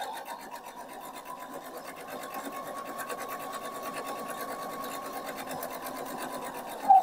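A sewing machine stitches straight across a fabric bookmark with a steady, rapid mechanical whir and fine needle ticking, close up and continuous, ending in a brief louder clunk as it stops.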